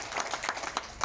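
Brief scattered clapping from an audience at a village and ward officials' outreach meeting in Nganjuk, a few quiet, uneven claps heard at moderate distance.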